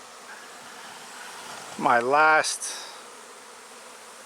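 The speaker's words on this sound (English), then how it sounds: "Look at that massive swarm of my bees leaving my bee yard." A massive honeybee swarm leaving a bee yard makes a steady, dense buzzing hum throughout, with a brief voice speaking over it midway.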